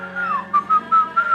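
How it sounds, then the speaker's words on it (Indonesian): A person whistles a short, bright melody of a few sliding notes, close and clear with no talking. "Ketika kita bersiul,"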